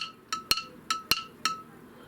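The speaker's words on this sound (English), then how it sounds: "I'm just going to give everything a good stir to get the party all started" A spoon clinks against the sides of a glass jar while stirring a homemade sour cream mixture, giving five sharp, close taps in an uneven rhythm with quiet scraping between them.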